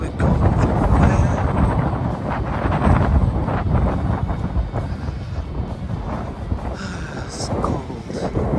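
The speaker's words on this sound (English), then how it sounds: "Wind is so strong, isn't it?" Strong, cold wind buffets a microphone outdoors, a continuous loud rumbling roar with gusty surges throughout, with people talking underneath.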